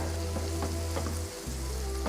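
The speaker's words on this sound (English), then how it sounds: "to get them all sizzling and staying warm." Spicy masala prawns with spring onions sizzle and fry on a hot iron griddle platter, making a loud, steady crackle with faint stirring scrapes and a brief dip in the hiss near the end.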